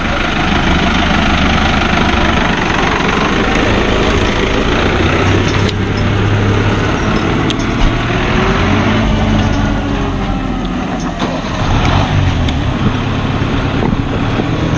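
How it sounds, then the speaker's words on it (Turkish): A farm tractor idles loud and close in a village, its steady low engine rumble continuous throughout with no voices over it. "Evet, traktör trafiği yaşanıyordu."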